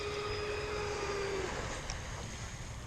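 A Whiplash 20 hydroplane model boat on a 4S battery skims across the water, its motor giving a thin high whine that fades after a second and a half, under steady wind noise on the microphone.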